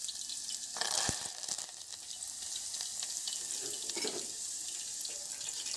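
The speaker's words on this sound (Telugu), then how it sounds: "ఇప్పుడు 4 పచ్చిమిర్చి చీలికలను కొంచెం కరివేపాకు నూనెలో వేయించుకోవాలి" Green chilies and curry leaves frying in hot oil in a home kitchen, a steady crackling sizzle with bursts of spattering, close and moderately loud.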